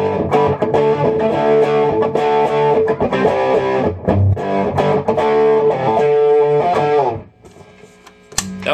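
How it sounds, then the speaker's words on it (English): An electric guitar played through an amp with added distortion and breakup, run through a Heatsink attenuator, rings out in loud, crunchy chords and notes for several seconds before trailing off into a quiet tail. "give a little bit more distortion on the guitar. Maybe turn the amp up a tad."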